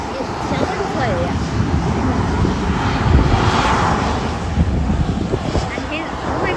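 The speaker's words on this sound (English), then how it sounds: "It sounds like a plane." Near Sydney airport, a passing Qantas jet gives off a loud, steady engine roar that peaks midway, mixed with microphone wind noise as someone keeps speaking close by.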